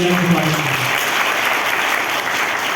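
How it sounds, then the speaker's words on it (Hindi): A crowd at a Rajput community introduction gathering claps loudly and continuously for an honoured guest, dense applause with a brief trace of a voice at the very start. "एक बार उनके लिए जोरदार ताली"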